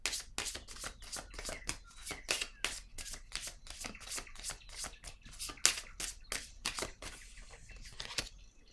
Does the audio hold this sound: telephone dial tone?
no